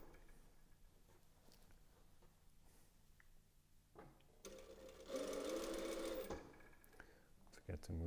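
A sewing machine stitching a fabric hem at a longer stitch length, faint and steady at first, then running louder and faster in a sustained whirring burst before slowing.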